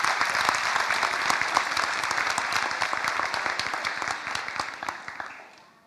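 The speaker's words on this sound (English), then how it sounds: "A round of applause for these young people." Applause for young scholarship recipients at a high school scholarship ceremony, a dense, steady clapping from an audience that carries on for several seconds and then fades out at the end.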